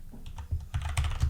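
A command being typed on a computer keyboard, a quick run of close, crisp key clicks with a low thump under each press.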